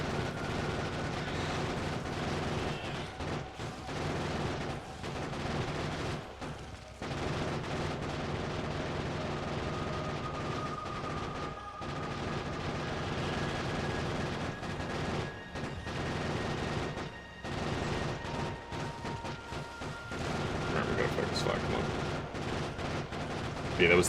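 Rapid turret gunfire from the video game Factorio shooting at attacking biters, sustained bursts of automatic shots continuing across the whole stretch with brief pauses, over a steady game soundscape.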